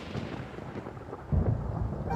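Low rumbling thunder in the Genshin Impact video game, a steady dark roar that swells louder about halfway through and rolls on to the end, with no voices.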